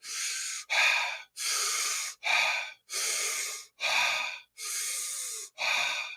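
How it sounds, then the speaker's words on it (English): Wim Hof breathing: eight forceful, loud breaths alternating deep inhales and exhales in a steady rhythm, each lasting over half a second with brief gaps, close and alone. "And don't forget Wim Hof breathing."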